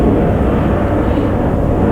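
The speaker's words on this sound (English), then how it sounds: "F-18 Hornets leaving from the military base just over my shoulder." Military F-18 Hornet jets departing a nearby base produce a loud, steady low roar that fills the whole stretch without a break.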